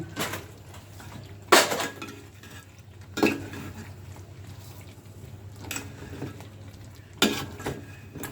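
A roast cooking in a pot with Radhuni roast spice mix is stirred, giving a few sharp metallic scrapes and clanks of a spoon against the pot spaced seconds apart, over a quiet low hum, with no talking.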